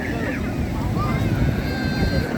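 Continuous broadband roar of sea waves and wind on an Alexandria beach, steady and loud, with a voice faintly present over the surf.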